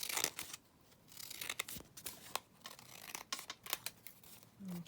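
Scissors snip through a paper pad for a vintage-style altered book, giving a run of short, close crisp cuts and rustles with brief pauses between them.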